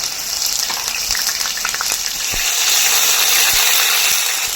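Ginger garlic paste frying in hot oil in a pan, a loud steady sizzle that holds for several seconds with a few faint clinks and stirring sounds, no talk.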